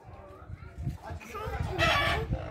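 A chicken clucks and calls nearby in short bursts while people talk in the background, the bird sounds rising into a louder, higher squawk near the end.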